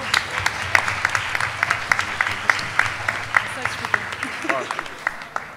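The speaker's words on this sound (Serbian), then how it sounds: "aplauz za sve vas" Audience applause at a teen panel event in Belgrade, a steady patter of many hands clapping at moderate distance, sustained for several seconds with talk faintly underneath.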